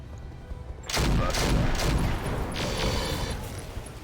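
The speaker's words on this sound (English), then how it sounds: "They're not, so we're going to fire on that Talos." Mech weapons in the game RogueTech open fire on a Talos, a sudden loud burst of overlapping booms and rattling shots that rolls on as a sustained barrage for several seconds.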